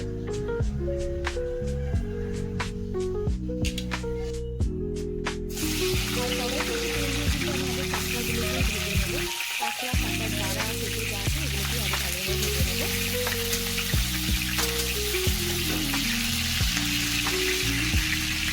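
Ginger garlic paste frying in hot oil for a crab curry, with a steady close sizzle running throughout under background music.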